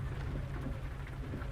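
Heavy rain in American Truck Simulator pours as a steady, dense wash with a deep rumbling undertone, loud and continuous with no talk over it.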